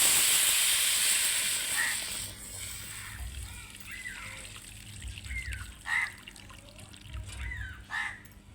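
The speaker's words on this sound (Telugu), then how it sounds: "దాంట్లో పోస్తున్నాం ఇప్పుడు" Broth of boiled raw tamarind is poured into a hot pan, a loud hissing rush at first that fades to a soft bubbling simmer while a person talks quietly over it.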